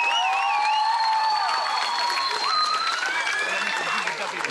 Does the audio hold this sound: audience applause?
yes